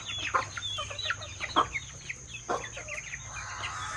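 A black rooster clucks repeatedly in short, close, bright bursts with uneven spacing, other fowl faintly around it and a thin steady hum running underneath.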